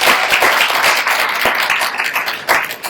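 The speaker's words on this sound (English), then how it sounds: "Round of applause for just being here, everybody" Audience applause at a poetry event celebrating a county poet laureate, dense clapping from a crowd with a few sharper individual claps standing out, loud and sustained throughout.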